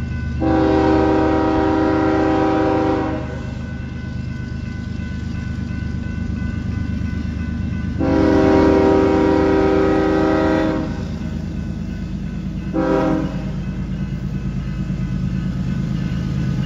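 A Union Pacific grain train rumbles steadily past, loud and continuous, while its horn blasts three times, two long and one short.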